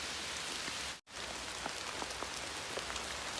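Steady rain falls on a hiking trail in the Appalachian woods during a storm, a dense, continuous hiss of drops on surfaces with a brief cut near the start.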